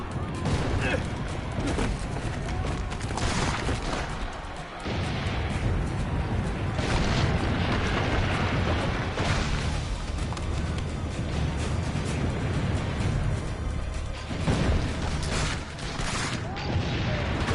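Cannon blasts and explosions in the video game Assassin's Creed: Brotherhood, heavy repeated booms and rumbling barrages filling the scene with shouted voices over them.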